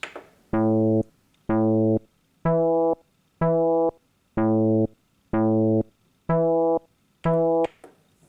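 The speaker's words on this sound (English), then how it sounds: "we'll just play the MIDI file. That's the built-in bass sounds." A built-in synth bass sound plays a steady MIDI line of eight evenly spaced, punchy notes with short gaps, clean and upfront with nothing else playing.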